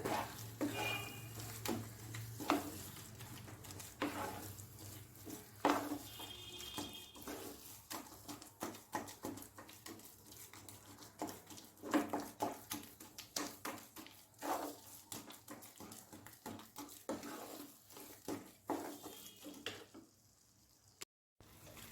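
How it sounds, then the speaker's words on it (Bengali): Grated coconut and milk cook down in a wok for coconut laddu while a spatula stirs and scrapes over and over against the metal, giving quiet rhythmic clatters and soft sizzling with no voices. "এই সময়টা খুব ভালো মতন নাড়তে লাগবে"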